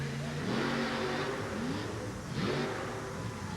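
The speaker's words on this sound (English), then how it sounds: "Listen to the sound of that engine, a supercharged alcohol burner." A supercharged alcohol-burning monster truck engine revs hard at a 1988 USHRA event in Kansas City, loud rising and falling engine roar with pitch sweeps, and no voices.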